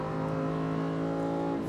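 A Lamborghini Huracán STO with its 640 hp engine accelerating hard on the Nogaro circuit, a loud, steady, rising engine drone heard close from on board, with no talk over it.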